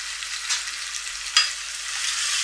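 Tomato halves and slit green chillies frying in a pan, a steady close sizzle with brief stirring bursts, no talking.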